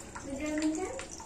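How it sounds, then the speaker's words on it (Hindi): Water falls from a leaking village tap in a brief, close splash of running and dripping water, with a voice faintly present. "यहाँ पर देखिए टप टप टप टप करके पानी गिर रहा है।"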